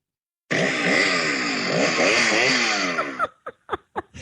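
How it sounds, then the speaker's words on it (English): A chainsaw sound effect played on a radio show roars loudly for close to three seconds, its pitch wavering as it revs, then breaks into a few short sputtering bursts. "The chainsaw."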